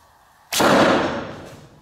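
An arrow loosed from a 35-pound bow hits its target indoors with a single sharp, loud thud and a brief ringing decay.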